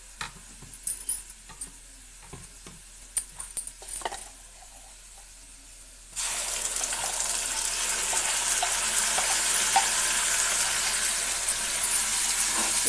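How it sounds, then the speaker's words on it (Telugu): Masala paste goes into a pan of fried onions for an egg chicken curry: a few scraping stirs, then a sudden loud, steady sizzle that carries on close up and without pause. "ఈ మసాలా అంతా మనకు పచ్చి వాసన పోయినంత వరకు వేగనివ్వాలి."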